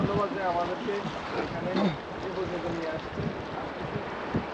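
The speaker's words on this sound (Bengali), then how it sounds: "দেখছেন আমাদের নৌকাটা কিভাবে ডুলাচ্ছে এই যে দেখেন কি ঢেউগুলো আসতেছে" A boat off Saint Martin Island rocks on sea waves, with a steady rush of water and wind noise throughout as people talk over it.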